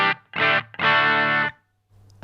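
An electric guitar plays through a lower-gain overdrive on a Line 6 HX Effects unit, giving a few crunchy, sustained chord hits with short gaps between them, loud and close.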